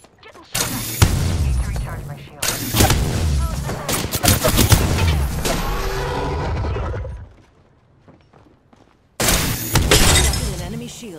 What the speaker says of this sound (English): I'm taking shots. Getting shot at.